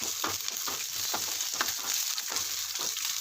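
Garlic and ginger sizzle in a pan of hot oil, a close crackling fry broken by soft rhythmic stirring scrapes, with no talking over it.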